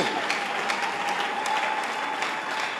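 Sustained applause from a church congregation, many hands clapping in an even dense roar with scattered sharper claps rising above it, steady throughout.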